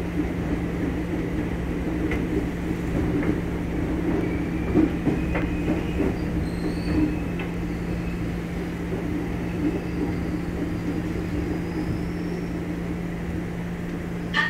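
A commuter train rumbles steadily at Manggarai station, with a constant low hum and faint rail clatter plus a few thin squeals, continuous and close.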